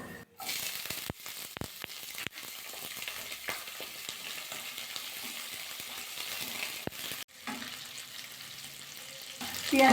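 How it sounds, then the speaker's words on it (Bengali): Onions frying in a pan and being stirred, a soft steady sizzle broken by sharp scrapes and knocks of the utensil, with a brief pause near the end, no voices. "পেঁয়াজটা কিন্তু নাড়াচাড়া করে একটু হালকা একটু ভাজা করে নিয়েছি"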